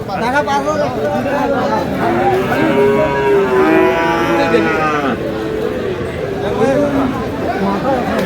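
A Friesian bull calf moos repeatedly at a busy cattle market in Dinajpur, drawn-out bellows close by over a background of crowd chatter and people talking.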